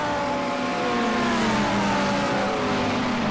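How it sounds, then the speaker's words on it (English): Audi race car engines scream at Brands Hatch, a loud, sustained high-revving whine with the pitch slowly dropping as the cars pass and pull away. "Just hearing the engines going off of the Audis"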